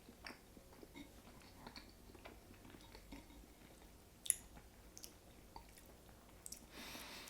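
Someone chews fresh Honduran cheese, queso hondureño, which is firm and springy, making quiet, close, soft squishy chewing sounds in an irregular rhythm.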